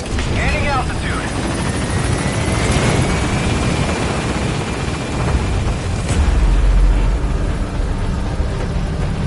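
A helicopter lifts off from a landing zone in Metal Gear Solid V: The Phantom Pain, its loud, steady rotor roar and engine whine filling the scene, with booming rumbles and a radio voice speaking over it.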